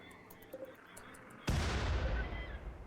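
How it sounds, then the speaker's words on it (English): A mortar shell blasts in the video game Rimworld: one sudden loud explosion breaks in midway and then rumbles away slowly, with light clicks and bits of game noise before it. "this stupid mortar"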